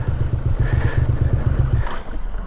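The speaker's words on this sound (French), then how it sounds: "Et voilà, on a calé." Motorcycle engine idling with a steady low throb, then cutting out as it stalls near the end, close by and fairly loud.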